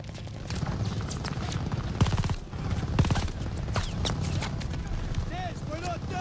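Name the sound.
gunfire at tanks, Call of Duty Vanguard video game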